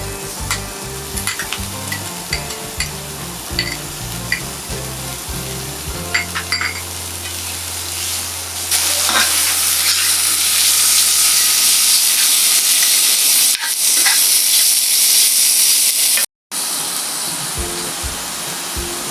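Chopped onion and chicken fry in a pan for restaurant-style Indo-Chinese mixed fried rice, a loud, close, steady sizzle with stirring scrapes. A low hum fades midway and a brief cut comes near the end, with no speech.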